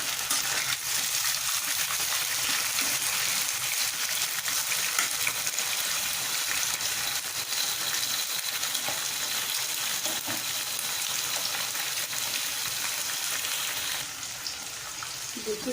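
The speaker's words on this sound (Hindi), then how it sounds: "इसको थोड़ा वाइट होने तक से भून लेंगे तो पानी जल जाएगा चिकन का।" Chicken pieces fry in a pan for biryani, a steady loud sizzle and crackle close up that carries on without a break and eases slightly near the end.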